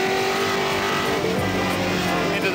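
Tru Blu MkII race car driving at full power, a steady loud engine roar heard from inside the car with a droning, constant pitch and no pauses.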